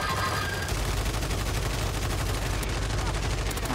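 Rapid, loud gunfire bursts crackle continuously in a Call of Duty Warzone Resurgence match, with shots overlapping into dense fusillades throughout.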